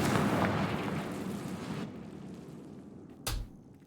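A Confringo fire spell explosion in Hogwarts Legacy, a loud roaring blast that fades over two seconds, then a short sharp thump near the end.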